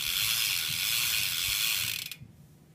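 A Sunday bike hub freewheel on a BMX ratchets in a rapid, continuous buzz of clicks, close and loud, then slows into a few separate clicks as the wheel coasts to a stop.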